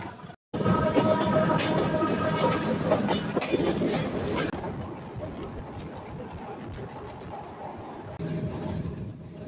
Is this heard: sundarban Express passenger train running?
yes